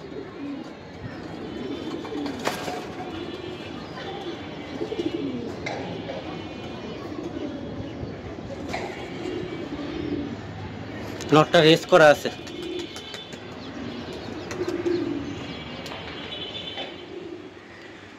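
Racing pigeons coo softly and steadily while someone talks over them, with a short burst of wing flapping near the middle and scattered clicks around it.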